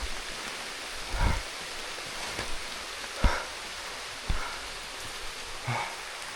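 Rain falls in a forest as a soft, steady hiss broken by several dull, scattered thumps of heavier drops landing nearby.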